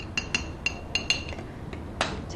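Bean sprouts being tossed with salt and sesame oil for japchae, heard as a series of light, close clinks and taps of utensils against a bowl, irregular and brief, with no talking.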